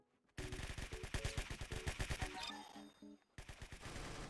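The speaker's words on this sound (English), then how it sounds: "Minigun." Rapid continuous gunfire from a minigun in the video game Arsenal, a loud buzzing stream of shots with a brief pause before firing resumes.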